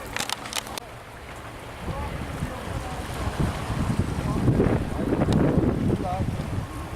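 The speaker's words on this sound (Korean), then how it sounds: "바닷물 소리가 들리는 이곳 부안 변산의 적벽" Sea waves wash against the Jeokbyeok cliff at Byeonsan in Buan, a rising surf rush mixed with wind buffeting the microphone and occasional faint voices.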